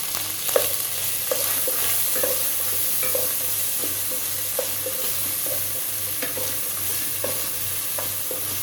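Green peas sizzle steadily in a hot frying pan for dal khichdi, with a continuous frying hiss under repeated light scrapes and taps of a stirring spoon.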